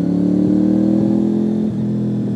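A Honda sports-touring motorcycle fitted with a high-level Bos aftermarket race exhaust idles and blips, a loud, close, steady low engine hum with a few small throttle bumps and a slight drop near the end.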